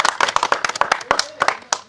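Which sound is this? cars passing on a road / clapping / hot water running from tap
clapping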